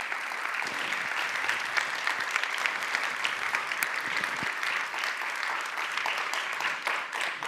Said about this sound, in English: If you want to applaud.